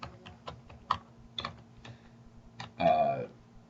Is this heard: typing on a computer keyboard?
yes